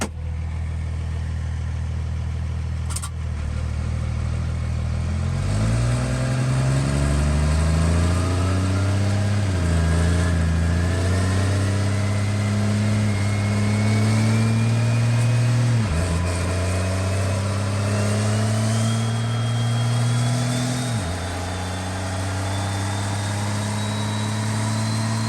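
A 2000HP Cummins diesel engine vehicle starts for its first run, then revs up in repeated climbing surges, each followed by a drop, with a loud continuous rumble throughout.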